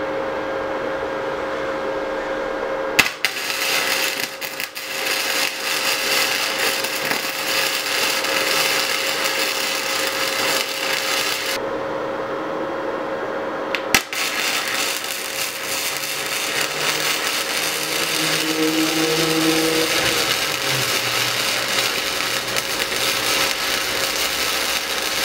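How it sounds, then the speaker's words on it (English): Welding on a C5 Corvette's front impact bar gives a loud, continuous crackling hiss in long runs, broken by two short pauses where the arc stops and restarts. "Alright, so I got the first weld all set up."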